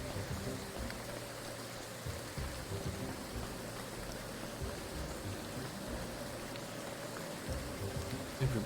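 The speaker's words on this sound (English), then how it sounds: "Everybody's standing in the rain outside." Rain falling steadily in the video game Graveyard Keeper, a soft continuous hiss of drops with a faint low musical hum underneath, quiet and unbroken.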